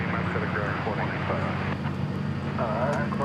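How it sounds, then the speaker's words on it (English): A 16-year-old Boeing 747-400 bound for Louisville at DFW Airport, its steady engine roar droning beneath continuous nearby talk throughout. "The 747-400."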